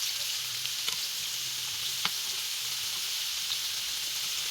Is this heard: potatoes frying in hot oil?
yes